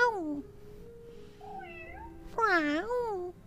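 A person's voice imitates a cat meowing, a few drawn-out, pitch-bending meows standing out clearly above a quiet room hum, each call rising and falling.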